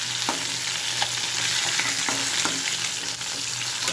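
Fish frying in hot oil, a steady close sizzle with occasional light spatula taps breaking through.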